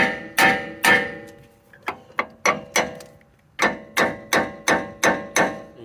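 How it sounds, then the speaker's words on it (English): Metal hammer blows ring out on a front suspension part of a 2001 Ram 2500 Cummins 2wd truck, about fifteen sharp strikes in uneven bursts, each decaying with a metallic ring. "So I just hammered on it. Eventually came out."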